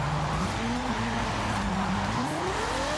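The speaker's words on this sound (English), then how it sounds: "Man, this car sounds so good." Steady, loud engine drone from a 1400 HP Ferrari 599XX drift car in a video game, its pitch wavering and then rising as it accelerates, continuous with no talking.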